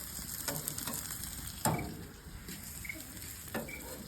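Beef steak grilling on a backyard barbecue, with a continuous close sizzle and frying hiss broken by a few sharp clicks and knocks. No talking is heard.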